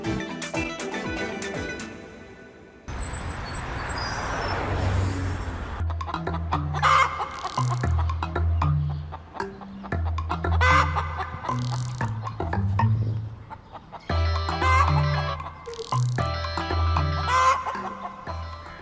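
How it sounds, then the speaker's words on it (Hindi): Rooster in a comedy drama scene, repeated clucking and a few crowing calls over background music, fairly close and loud throughout. "लग तो मुर्गा रहा है"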